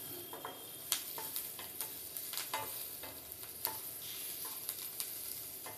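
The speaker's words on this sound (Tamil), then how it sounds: "வரமல்லியும் ஓமத்தையும் போட்டு நல்லா ஃப்ரை பண்ணிக்கலாம்." Coriander seeds and ajwain frying in a pan of oil for a potato kachori filling, a steady close sizzle broken by sharp ticks and pops as the spices are stirred, with no voices.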